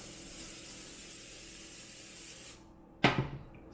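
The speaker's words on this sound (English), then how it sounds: "Start with some Pam here." Pam cooking spray hisses steadily into a pan for about two and a half seconds, then stops, followed by a brief clatter of the pan.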